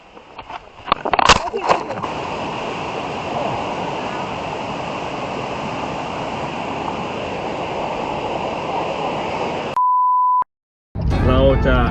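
Steady roar of the rushing Krok I Dok waterfall in Khao Yai, Saraburi, fills most of the clip, with some clatter at the start, then a brief electronic beep and a cut to another sound.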